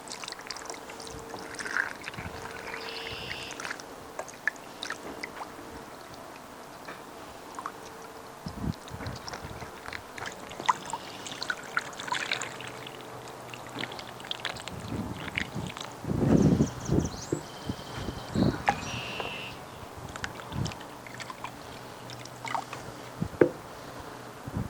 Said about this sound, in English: Now we're going to make it rain.